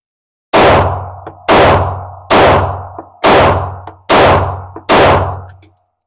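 Taurus GX4 pistol firing Igman ammunition, six sharp loud shots spaced roughly a second apart, each with a short ringing decay, close and alone with no voices.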